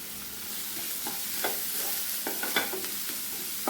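Curry leaves crackle in hot coconut oil over a low flame, a steady sizzle with sharp spitting pops scattered through it, close and fairly loud, no voices.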